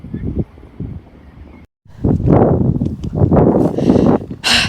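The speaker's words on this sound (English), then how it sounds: "sorry if it's really windy" Wind buffets a microphone outdoors on a field while metal detecting in the UK, with heavy gusty rumbling bursts that drop out briefly and return strongly.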